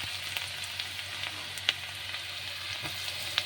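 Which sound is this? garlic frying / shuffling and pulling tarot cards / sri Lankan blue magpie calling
garlic frying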